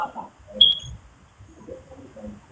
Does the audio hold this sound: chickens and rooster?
no